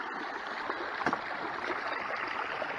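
Water flows steadily through a gold sluice box fitted with a gold mat, a continuous nearby rushing and trickling with brief gurgling splashes, no voices present.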